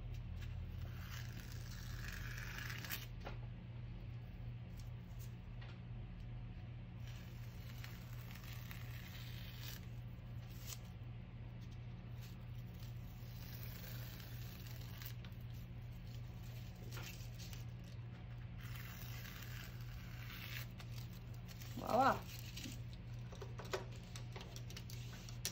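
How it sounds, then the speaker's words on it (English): Masking tape peels off a painted surface in several quiet, raspy, zipper-like pulls separated by pauses, over a faint steady background hum. "But I'm gonna peel the tape now for fun."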